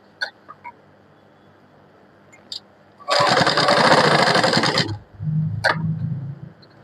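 A sewing machine runs a loud, steady stitching burst of about two seconds while sewing a small kurti for a three-year-old child, with quiet handling sounds before and a lower hum after.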